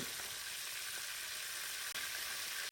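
Pieces of snake gourd frying lightly in a pan, a steady soft sizzle at an even level with a brief clunk near the end, no talking.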